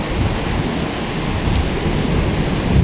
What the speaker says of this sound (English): they can't have it in that lightning and thunder like that